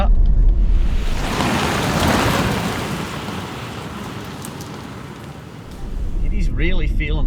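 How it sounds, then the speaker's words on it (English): Heavy rain hisses steadily around a Toyota LandCruiser 300 Series on a rough road, loud and broadband, with road rumble beneath and brief tonal sounds near the end. "We've got a bit of water around and it's raining."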